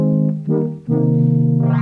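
A DX7-style synthesizer tone set to algorithm 26, with operator 6 switched to a resonant spectral waveform, plays sustained buzzy notes that shift pitch twice, loud and alone.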